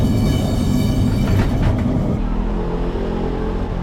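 Lisbon's number 28 tram rolling along with a loud, steady low rumble and rattle that eases slightly partway through.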